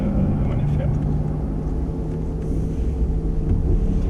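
A Porsche Taycan electric car, weighing about 2.38 tonnes, driven on the Hockenheim race track, giving a steady low rumbling hum of motor and road noise, with people talking inside over it.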